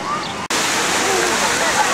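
A young child splashes about in water, a steady wash of sloshing and spattering that stays loud after a brief break near the start, with no talk over it.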